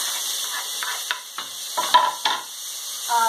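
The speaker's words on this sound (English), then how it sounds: "I cut the tomato and add in a saucepan" Chopped tomato sizzling in a hot saucepan with onion for Catalan chickpeas, a steady frying hiss broken by several sharp crackles and stirring scrapes, close by.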